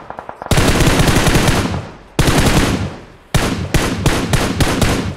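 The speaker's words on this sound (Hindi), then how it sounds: "सामने से फायरिंग आती है" Automatic gunfire in the mobile shooter BGMI, three loud rapid bursts of shots up close, each stopping sharply before the next, preceded by a few quieter distant pops, with no talk over it.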